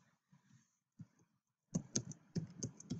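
Computer keys tapped in quick irregular clicks, sparse at first and then a denser burst of typing, close and fairly quiet while entering a name into an online exam tool.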